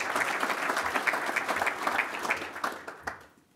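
A hall full of people at a golf association assembly gives warm, sustained applause for newly named committee members; dense clapping at middle distance that holds steady, then thins and fades out at the end.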